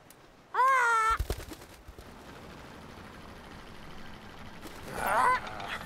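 A cartoon bird gives a loud, drawn-out honking call, followed by scattered clatter and quiet background, then a second, shorter honk near the end.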